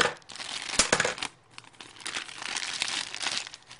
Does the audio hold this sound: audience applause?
no